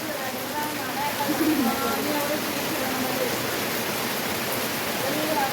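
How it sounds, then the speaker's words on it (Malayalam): Heavy rain falls outside as a dense, steady hiss that fills the whole stretch without pause, with a faint voice briefly audible beneath it. "നല്ല മഴ പെയ്യുക. പുറത്തോട്ട് നോക്കിയിട്ട് അടിപൊളി മഴ"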